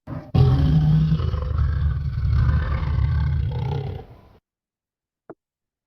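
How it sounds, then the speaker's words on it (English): An AI-generated lion gives one long, deep, rumbling roar lasting a few seconds, loud and close, then silence with a brief click at the end. "Or lion roaring."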